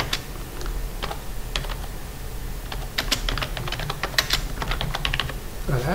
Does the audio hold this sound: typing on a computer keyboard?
yes